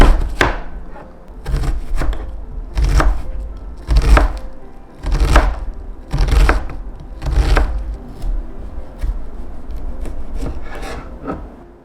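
A knife chops onions in a steady rhythm of about ten firm, close strikes, each a sharp thunk with a brief scrape, spaced roughly a second apart. No one speaks.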